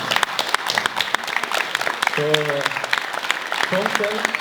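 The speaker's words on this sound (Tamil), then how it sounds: "தோம்சனுக்கு கரகோஷம" Audience applause at a Tamil event welcoming a guest, a steady dense patter of clapping throughout with brief tonal voices or music rising over it midway and near the end.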